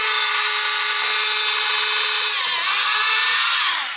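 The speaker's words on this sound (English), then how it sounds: "you can watch the carnage of drilling into a perfectly good and rare Tamiya body shell" A small handheld power drill whines steadily at high pitch, close and loud, as it bores a pilot hole into a rare Tamiya RC body shell for a 1/12 M1025 HMMWV model, the tone dipping briefly under load near the end.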